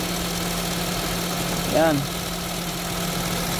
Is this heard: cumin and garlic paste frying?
no